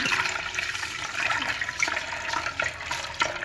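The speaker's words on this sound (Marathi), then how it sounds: "आणि नळाखाली असं हे करून घेणार आहे मी धुवून" Tap water runs and splashes through a sieve of mung lentils being rinsed in a kitchen, a steady close rushing wash with no pauses.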